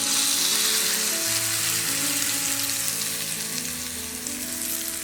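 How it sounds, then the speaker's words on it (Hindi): Chana and urad dal tempering in oil sizzling steadily as it goes into red coconut chutney, a continuous fizzing crackle over a faint tonal hum in the background, no speech. "गैस ऑफ कर देते हैं और ये टेम्परिंग इस चटनी में डाल देंगे"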